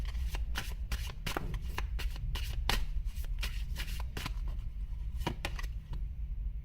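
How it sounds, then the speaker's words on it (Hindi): A deck of oracle cards is shuffled over and over, with crisp riffling bursts coming in an uneven rhythm. The sound is close and moderately loud, and no one speaks. "और एक फाइनल कार्ड यहां से आएगा इस वाले डेक से"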